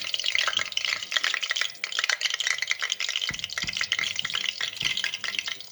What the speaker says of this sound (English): our oil is making noise because I dropped some water inside